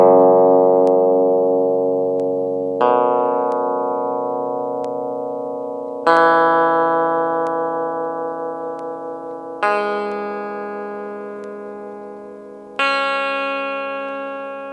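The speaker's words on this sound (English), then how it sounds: "I'll play the open notes for you, tune the guitar in" Guitar tuned down a step and a half, open strings plucked one at a time, five separate notes each ringing out and slowly decaying before the next, clean and close, with no talking.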